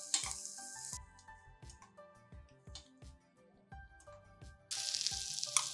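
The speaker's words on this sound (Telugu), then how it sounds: "గుమ్మడి ముక్కలు కొంచెం వేగితే చాలండి, కాస్త నేతి వాసన వచ్చేదాకా." Pumpkin pieces fry in ghee for a moong dal payasam, sizzling loudly in bursts at the start and end, with ringing tones and soft knocks of a utensil in the quieter middle.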